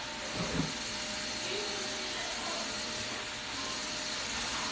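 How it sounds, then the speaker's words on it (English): Vacuum cleaner running in another room of a house: a constant, muffled whooshing drone with a faint steady hum. It stays far off and unchanging under a quiet room, with no voices. "They up in there vacuuming now."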